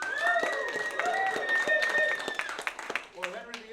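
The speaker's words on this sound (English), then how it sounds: "please clap and cheer for which of those scenes is going to get a point" A live audience at a gallery presentation claps and cheers while a presenter keeps talking; scattered hand claps sound steadily under the voice for most of the stretch.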